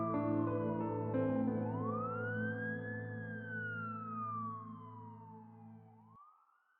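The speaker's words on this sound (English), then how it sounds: "he heard the sirens" A police siren wails in a long rising and falling sweep, fairly close and prominent over a steady low drone, then cuts off and fades near the end.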